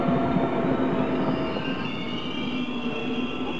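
A Trenitalia regional train pulls into a station platform at Busto Arsizio, a loud rumble of wheels with high squealing tones that eases slightly as it slows.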